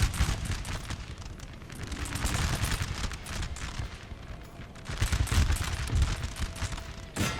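Dense, continuous musket volley fire rattles through a Napoleon: Total War battle, many overlapping shots crackling loudly throughout with heavier bursts near the end.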